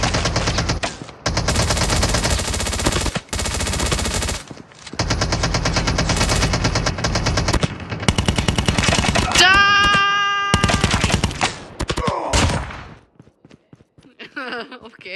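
Sustained rapid automatic gunfire bursts from a Call of Duty Mobile battle royale match, loud and dense with short gaps, followed by a brief rising electronic tone and fading clatter near the end, with a voice briefly mixed in.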